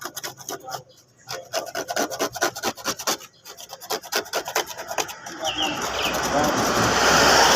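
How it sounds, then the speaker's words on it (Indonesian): A motorcycle part being rubbed down by hand before sanding, a rapid, steady scratchy rasp of repeated strokes close by that thickens into a continuous gritty scrub toward the end, with no talking. "seperti ini kita gosok saja pokoknya semuanya"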